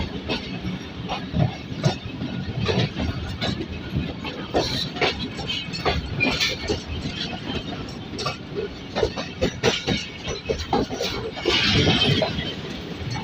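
Fareed Express passenger train at the busy Kasur station in Pakistan, its cars rolling past close by with steady rumble, hissing and repeated clickety-clack wheel knocks, loud and continuous with crowd noise around.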